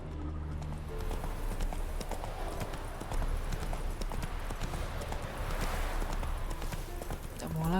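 Horse hoofbeats from The Witcher 3: Wild Hunt game: a steady, fairly faint clip-clop of a horse running throughout, over a low game ambience, with no talk.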